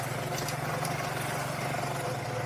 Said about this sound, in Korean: 지금 아무래도 오토바이다 보니까 꽤 달리는 편이거든요